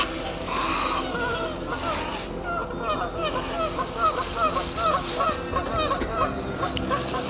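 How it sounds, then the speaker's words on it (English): Geese honk repeatedly in a noisy, overlapping chorus at moderate distance, against faint outdoor background noise at a carp fishing lake. "geese are making plenty of noise"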